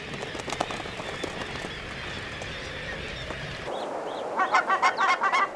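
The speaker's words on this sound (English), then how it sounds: "Barnacle geese, another Arctic cliff nester." Barnacle geese, Arctic cliff-nesting birds, give a run of loud nasal honks in a quick rhythmic burst near the end, following several seconds of steady rushing background noise.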